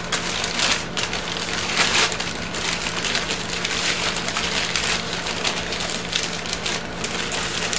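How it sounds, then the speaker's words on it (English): Tool packaging being sliced open and unwrapped, giving a continuous loud crinkling, crushing rustle of plastic and cardboard with bursts of sharper crackle, close up and without talk. "You just slice and open and unwrap."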